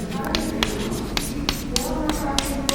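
Chalk or marker strokes on a board during a maths lecture on boundary points, a series of short scratchy taps and squeaks at an uneven rhythm, close and fairly clear over a quiet room hum.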